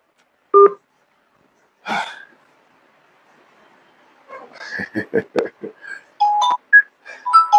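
Telephone dialing tones placing a call: two isolated beeps, then a burst of mixed sounds, then a quick run of close, loud keypad tones at the end.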